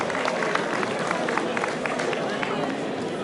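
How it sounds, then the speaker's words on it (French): An audience at a rally prize-giving ceremony applauds the spectators, producing a dense, even wash of many hands clapping at once, steady and fairly loud throughout with faint voices mixed in. "je vous demande d'applaudir tous les spectateurs qui étaient là"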